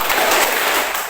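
A classroom of students clapping together in a counted rhythm, dense overlapping handclaps filling the room in a continuous loud burst with no pauses.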